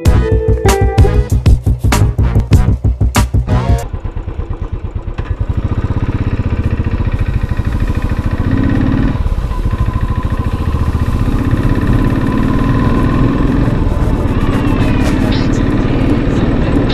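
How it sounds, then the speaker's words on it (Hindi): A Harley-Davidson motorcycle engine runs close by, with a few quick throttle blips at the start before it settles into a loud, steady throbbing idle. "लोग कहते हैं कि हार्ले में वाइब्रेशन नहीं था, एक बार इंजन का कंपन महसूस करिए आप।"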